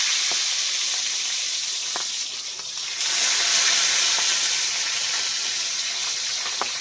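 Hot oil sizzles and crackles steadily in a pan, growing louder and fuller partway through as milkfish is added to fry, with occasional small pops.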